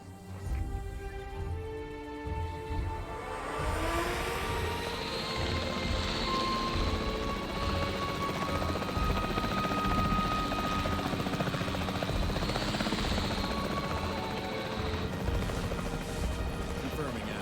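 A capture team helicopter in the video game Jurassic World Evolution 3 whirs loud and steady after a short buildup, its rotor drone filling the scene under bits of game dialogue.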